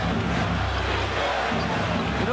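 A capacity crowd at Madison Square Garden during a 1993 Knicks–Bulls playoff game, a steady roaring wash of chanting voices that fills the arena, broad and sustained.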